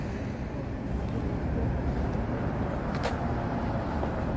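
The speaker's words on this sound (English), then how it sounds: "There goes the big bus." A big city bus rolls past on a street in the Chicago Loop in winter, a loud, steady broadband engine and road rumble that holds throughout, with a brief hiss near the end.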